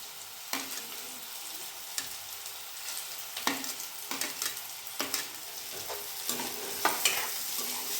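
Green chilies fry and sizzle in a pan with oil, stirred now and then with a spoon, giving a steady close crackle broken by sharp scraping clicks and no one speaking.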